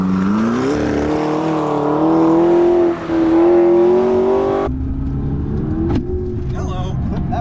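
A McLaren MP4-12C accelerates hard around an autocross course, its engine rising in a loud, climbing whine through the revs before easing off and surging again, with voices talking in the car.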